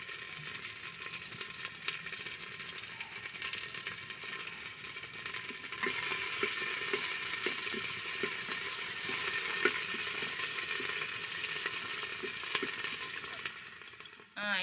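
Onions and tomato frying in oil for Mangalore-style green masala, a steady close sizzle that grows louder partway through, with occasional stirring scrapes in the pan.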